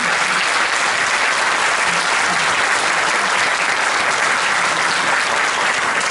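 Dense, sustained applause from a concert audience at a Turkish classical music choir performance, a loud, even wash of many hands clapping together throughout, close and uninterrupted by voices.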